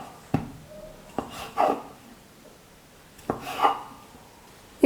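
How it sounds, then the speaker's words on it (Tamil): Knife chopping rolled wheat flour dough into small pieces on a board, giving a few sharp separate taps spread over several seconds with quiet gaps between them. "இப்போ கத்தியை வச்சு நம்ம கட் பண்ணி எடுத்துக்கலாம்"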